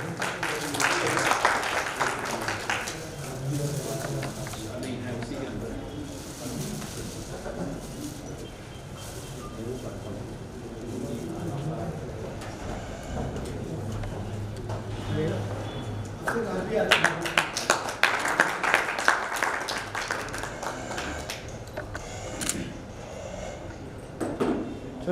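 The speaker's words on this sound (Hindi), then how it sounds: "जोरदार तालियां हो जाएं" Audience at a Hindi book launch at a literary hall in Bhopal clapping warmly, the applause swelling and fading in waves, mixed with murmuring voices and a speaker talking at times.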